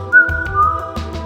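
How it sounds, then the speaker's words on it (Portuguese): A discreet whistle from behind in a narrow alley at night, a single clear sustained tone held for about a second with a slight rise at the start, close and alone. "ouviu um assobio discreto vindo às suas costas"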